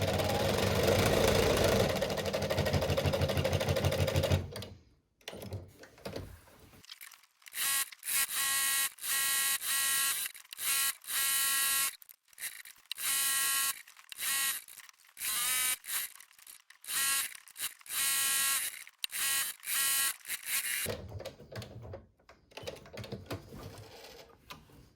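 A sewing machine stitches a quarter-inch seam on a fabric face shield extension, a close, whirring, rhythmic hum in repeated runs that stop and start over about twenty seconds, after a different steady noise at the opening.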